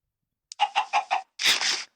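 Minecraft chickens on a crowded farm give a quick run of five or so short clucks, then a longer, louder squawking call, close and clear with no talk.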